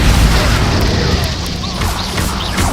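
Confringo explosive spell from Hogwarts Legacy, a loud booming blast at the start followed by sustained rumbling, with faint game sounds layered on top.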